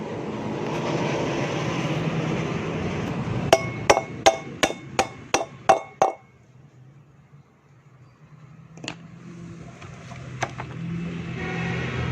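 A new rear wheel bearing is hammered into place with about eight loud, evenly spaced metallic strikes in quick succession. After a quiet pause, a couple of lighter taps follow, all over a low background hum.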